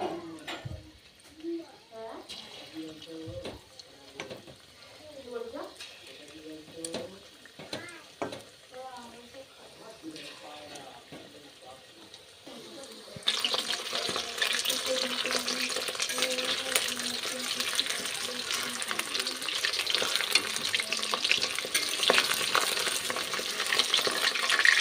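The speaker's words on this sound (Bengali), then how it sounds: "তো এবার একে একে এবার পকোড়াগুলো দিয়ে দিই।" Pakoras dropped one by one into hot oil, starting quiet with faint clinks and handling before a loud, steady frying hiss takes over for the second half, close and continuous.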